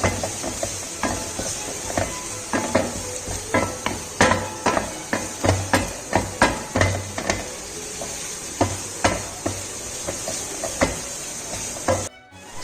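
Green chilies stirred and frying in a pan for a sandwich filling, with a steady sizzle beneath repeated sharp clicks and scrapes of a spatula against the pan, close and fairly loud throughout.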